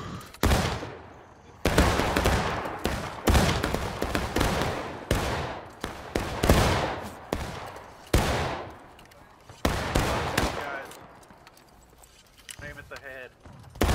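Video game battle gunfire in a multiplayer match, with bursts and volleys of shots crackling in dense clusters separated by short gaps, loud and close, while players talk over the action.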